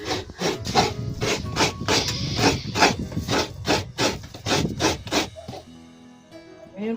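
Fresh coconut is grated by hand for a Filipino dish of tuna cooked in coconut milk, giving a steady series of close, rhythmic rasping strokes that stop near the end.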